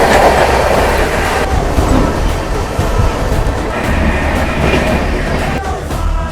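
The Visakhapatnam–Mahbubnagar SF Express rolls along the track with a loud, steady rumble and rhythmic clickety-clack of wheels heard from inside the train, with no talk.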